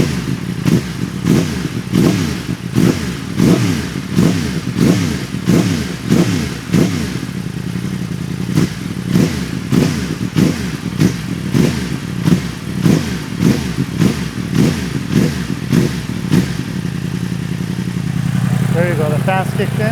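A Yamaha R1M sport motorcycle idles after warming up with a sealed airbox, its engine pulsing in a steady, loud, close rhythm; near the end a cooling fan kicks in with a whirring rise.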